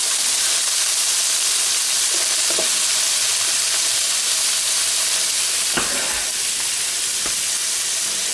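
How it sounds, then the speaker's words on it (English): Sliced onions sizzle steadily in a hot pan as the base for Filipino chicken adobo, a loud continuous frying hiss with a few brief stirring scrapes near the end and no talking. "put your sliced onions in, and this is the base of the sauce."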